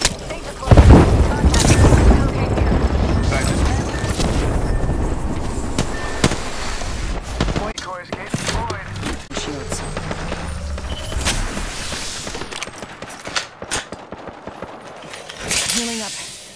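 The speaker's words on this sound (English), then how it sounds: "Yeah, getting shot at." Gunfire in Apex Legends: bursts of shots and rapid fire crackle through a busy firefight, loud at first then scattered, with people talking over it.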